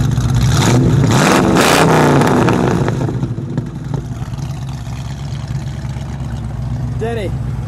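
Loud revving from the 302 V8 of a 1978 Ford Mustang King Cobra: a couple of sharp rising blips early, then a deep steady idle burble, with people talking.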